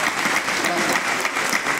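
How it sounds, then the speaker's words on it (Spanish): Audience applause at a Q&A session of a full-day seminar, steady dense clapping from a crowd that fills the whole moment evenly without pause. "así que excelente, un aplauso."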